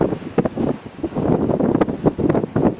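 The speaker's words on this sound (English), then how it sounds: "It's quite windy here today." Strong, gusty wind at Shepherds Lookout buffets the microphone in loud, uneven bursts, with low rumbling roar throughout.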